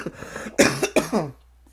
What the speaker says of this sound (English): make me cough.